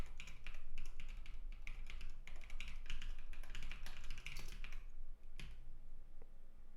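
Rapid typing on a computer keyboard during a Rust programming session, a dense stream of close clicking keystrokes that slows and thins toward the end.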